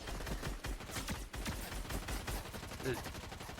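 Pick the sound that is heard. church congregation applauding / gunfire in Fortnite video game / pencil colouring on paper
gunfire in Fortnite video game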